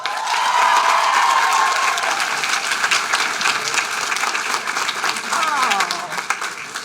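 Loud sustained applause from a university convocation audience welcoming the president to the podium, dense clapping mixed with cheers and whoops, with some voices in the crowd, fading slightly toward the end.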